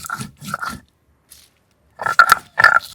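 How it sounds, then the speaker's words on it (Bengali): Short bursts of crunching and grinding come in two groups separated by a quiet pause, close and fairly loud, as black pepper, cumin, ginger, dried and green chilies are ground together. "এবার একসাথে বেটে নিচ্ছি"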